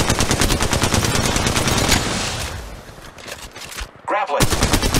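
Sustained automatic gunfire in the mobile game Apex Legends Mobile, rapid bursts rattling loudly for several seconds before briefly cutting out, with a short voice-line chirp near the end.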